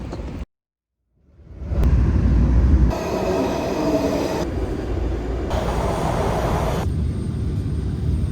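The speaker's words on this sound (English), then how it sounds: "Catch my metro." Washington DC metro train running with a loud steady rumble and rail noise that briefly cuts out, then resumes with broad hiss and clatter as carriages roll along the track.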